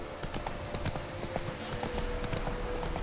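Hooves of Roach, the horse in the video game Witcher 3, clip-clopping in a steady, brisk rhythm, close and clear over a low background bed.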